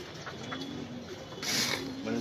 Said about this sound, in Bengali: আমার এখানে 200+ কবুতর